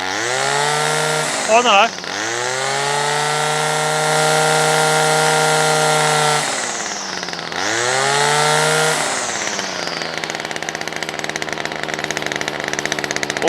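A chainsaw engine idles loudly nearby, running slightly boggy and in need of a tune, revving up and down a couple of times with a steady buzzing drone; a brief voice cuts in early.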